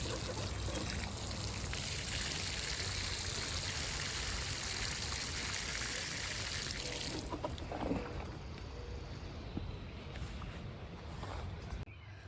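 Water pours and splashes steadily onto a newly planted dianthus in a garden bed, a continuous close trickling flow that stops abruptly partway through, leaving quiet outdoor ambience.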